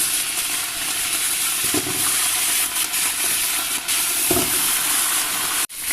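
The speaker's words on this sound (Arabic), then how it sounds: "هسه جدرية حمت عندي انزل بيها شوية زيت، انزل الدجاج" Chicken fries in hot oil in a pot, a loud, continuous crackling sizzle with a few louder surges of spitting oil before it cuts off abruptly.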